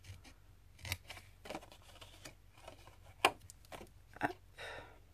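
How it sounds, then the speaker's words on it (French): Scissors cut across the width of a fold in paper for a small box, making several quiet, separate snips and crisp slicing strokes with short pauses between them. "on va venir juste couper sur la largeur de notre pliure"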